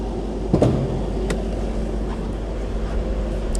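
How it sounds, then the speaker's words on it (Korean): A steady whirring hum of a Mercedes-AMG S63 4Matic's cooling fan runs continuously, louder than the low engine drone beneath it, with a couple of faint knocks and clicks. "그 다음에 냉각팬이 구동되고 있습니다 그래서 냉각팬 소리가 더 커요 엔진 소리보다"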